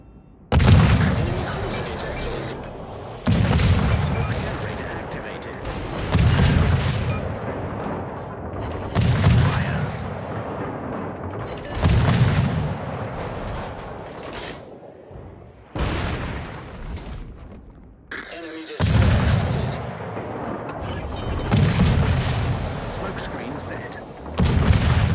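Naval guns fire in a World of Warships naval battle: around eight heavy booms, each with a long rumbling decay, come at roughly three-second intervals.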